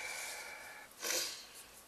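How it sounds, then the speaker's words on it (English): One sharp allergy sniff through the nose, close and brief, after a soft rasping sound. "Pardon the sniffles. It's allergies."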